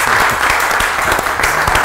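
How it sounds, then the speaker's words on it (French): A studio audience applauds steadily at a Katangese artists' show, a dense, loud wash of clapping with a few sharper claps standing out and no voice over it. "Non, mais applaudissez bien, non?"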